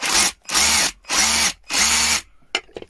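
A cordless drill on an Einhell 18V Power X-Change battery whirs in four loud, close bursts of about half a second each, separated by brief pauses, then a few faint clicks.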